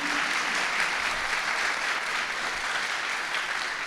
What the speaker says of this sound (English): A big round of applause for Andrei,